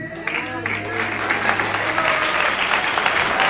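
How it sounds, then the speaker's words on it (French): A church congregation claps and cheers steadily in a large hall, a dense, continuous wash of applause with voices mixed in throughout. "acclamez pour ce Dieu"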